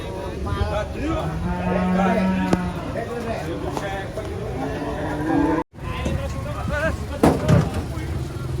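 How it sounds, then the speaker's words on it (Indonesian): Cattle moo in a crowded, noisy gathering of many cows, with several long lowing calls rising over steady crowd chatter and nearby vehicle noise. "Banyak sapi kumpul guys."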